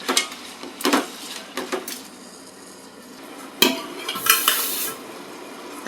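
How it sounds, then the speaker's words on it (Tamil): Salted tomatoes sauté in a pan for a country-chicken biryani, a low sizzle broken by bursts of stirring scrapes and metallic spoon knocks against the pan, close and intermittent, without speech. "தக்காளி வதங்கிட்டு இருக்கு."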